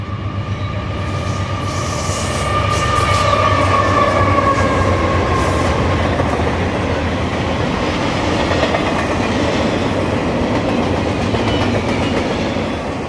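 Intermodal hotshot freight Q170, running as R170 on a reroute, passes on double-track railroad in central Florida, a loud steady roar of wheels and cars with rhythmic clatter and a faint squeal, sustained close by throughout.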